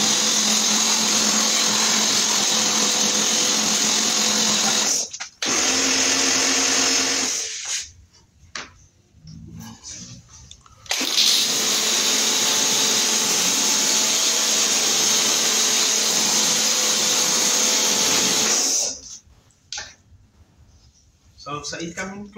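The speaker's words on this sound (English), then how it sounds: "take your high pressure gun and you rinse it" A high pressure washer gun rinsing a car during detailing, with long loud hissing sprays broken by short pauses and bursts.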